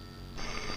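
A telephone rings in a tense Telugu film drama scene, a brief electronic ring cutting in sharply over a low room hum with no voices heard.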